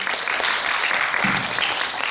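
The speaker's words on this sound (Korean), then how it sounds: "여러분 박수 한번 부탁드릴까요?" Steady applause from an audience at a women's forum held in a National Assembly conference hall, dense and sustained throughout with no pauses, and a brief voice surfacing near the middle.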